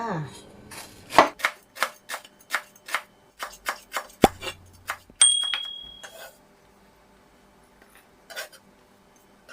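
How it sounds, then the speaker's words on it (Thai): A knife slices lemongrass on a cutting board while preparing a Thai coconut shrimp soup with turmeric, giving a steady run of crisp, close chops, then a clatter and a brief high clink before quieter sounds. "ซอยตะไคร้ก่อนค่ะ"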